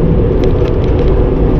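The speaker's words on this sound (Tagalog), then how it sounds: "So yun, naabutan tayo ng traffic guys. Rush hour." A truck rolling through rush hour city traffic, a loud, steady low engine and road rumble heard from inside the cab, continuous with no voices.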